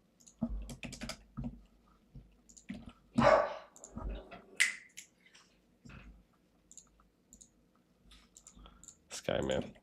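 A pet dog barks at the wind, a few sharp barks scattered among clicks and household noise, with someone talking at times.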